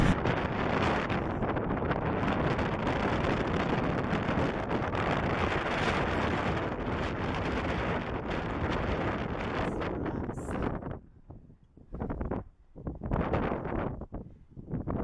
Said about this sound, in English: It's just been windy both days.